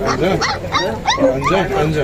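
Puppies at an outdoor dog market in Fergana yipping and whimpering in quick repeated high-pitched barks, close and fairly loud, mixed with people talking.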